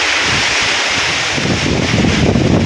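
Steady roaring wind from an approaching typhoon buffets the microphone on a farm, a broad rushing noise that swells and gusts slightly toward the end, with no voices.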